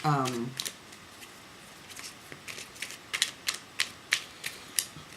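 Tarot cards riffled and shuffled for a reading, heard as a series of short crisp flicks and snaps that grow more regular and pronounced toward the end, close and fairly quiet after a brief voice at the start.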